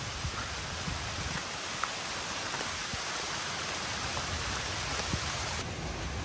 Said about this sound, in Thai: ฝนเนี่ย มันก็ตกทั้งวันเลย